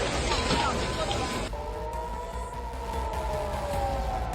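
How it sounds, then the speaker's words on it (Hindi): Air raid sirens wail over Tel Aviv during an attack, a loud rising and falling tone that shifts pitch midway and sustains throughout, with a voice talking over it. "तेल अवीव में सायरन की आवाजें बंद नहीं हो रही।"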